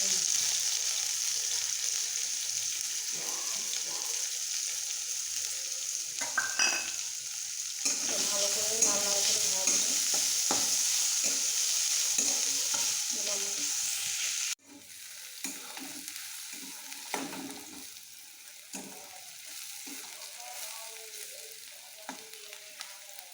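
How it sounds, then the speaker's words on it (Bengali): Onions frying in a pan while a utensil stirs them, a steady sizzle running throughout with scraping stirs, loud and close, dropping slightly in level partway through. "পেঁয়াজগুলো ভাজা হয়ে গেছে"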